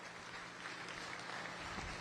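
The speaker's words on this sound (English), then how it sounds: "let's give all the weight market steer exhibitors a big round of applause" Crowd applause for the weight market steer exhibitors at a county youth fair beef show, a steady, dense wash of clapping lasting throughout at moderate loudness with no talk over it.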